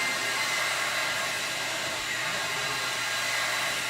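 A carpet cleaning extractor wand makes a dry suction pass, a loud, steady, close-up whooshing roar that holds constant without a break.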